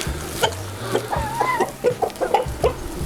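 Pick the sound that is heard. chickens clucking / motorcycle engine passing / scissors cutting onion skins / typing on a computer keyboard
chickens clucking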